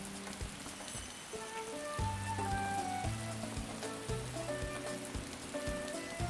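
Steady rain patters and hisses on surfaces in the video game Atelier Ryza 2, a continuous even wash of drops over low droning game music.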